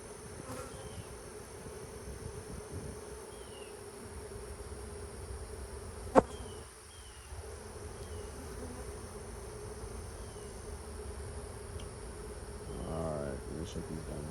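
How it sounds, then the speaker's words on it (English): Honeybees swarm over a hive frame during a split inspection at an apiary, a dense, steady close-up buzz that holds throughout, broken once by a sharp click. "I'm feeling those bees starting to vibrate on my gloves a little bit."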